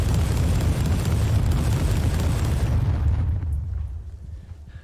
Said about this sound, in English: Concentrated salvo.